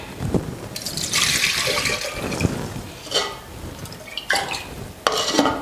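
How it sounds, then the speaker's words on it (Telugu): Water splashes and pours into a metal pot of rice in several bursts, with clanking of the vessel between pours, close and fairly loud. "బియ్యం ఉడకడానికి సరిపడ వాటర్ వేసుకుంటున్నాను"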